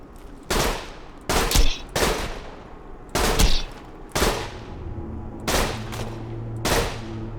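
Borderlands 2 video game gun firing: about six separate loud, sharp bursts spaced over several seconds, each a short cluster of cracking shots with ringing tails, a faint steady hum underneath.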